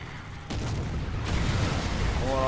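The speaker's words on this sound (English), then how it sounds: "here they come with the artillery again" Artillery shells burst in a War Thunder tank battle, a sudden boom at half a second followed by a heavy rolling rumble that keeps building through the rest of the moment.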